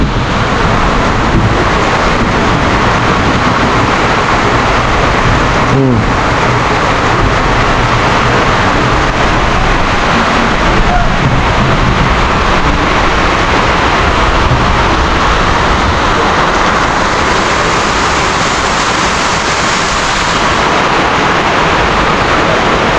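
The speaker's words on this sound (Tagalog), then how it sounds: "Patuloy pa rin yung ulan." Very heavy rain pours down continuously at barracks, a dense, loud roar that never eases, with no voices over it.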